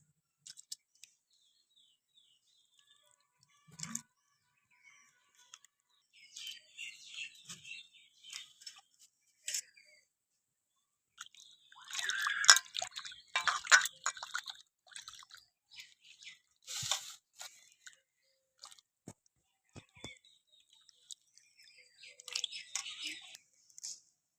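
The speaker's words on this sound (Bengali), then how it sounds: "এই আলুটাকে আমি ভালোভাবে কয়েকবার জল পাল্টে পাল্টে ধুয়ে নেব" Cut potatoes for homemade chips are washed by hand in a bowl of water, with scattered soft splashes, clatters and sloshing bursts coming in uneven clusters amid near silence, close by.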